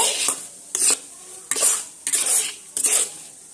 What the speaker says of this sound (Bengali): এবার আমি সুজির সঙ্গে এইভাবে মাখিয়ে নেব